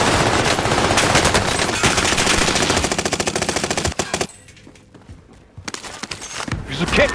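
Loud, close machine-gun fire in a video game, rattling in long rapid bursts that stop abruptly, with a short gap before more shots resume amid voices talking.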